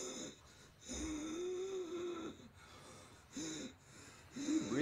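Heavy, labored breathing comes in ragged bursts with snorting gasps and a strained, moaning tone, close and fairly loud, pausing briefly between breaths.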